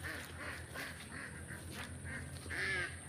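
Domestic ducks quack noisily and continuously near a rice paddy in the Philippine countryside, a close, overlapping chorus with louder bursts toward the end.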